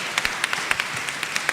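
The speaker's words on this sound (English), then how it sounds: "I would say big applause for Justina, for all our panelists, for these incredible stories." Audience applause for a panel of speakers at a live event, a short burst of scattered, irregular hand claps at moderate level with no voices on top.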